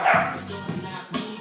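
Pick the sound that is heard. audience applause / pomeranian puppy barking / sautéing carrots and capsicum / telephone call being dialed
pomeranian puppy barking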